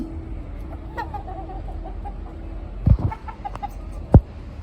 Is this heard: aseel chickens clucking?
yes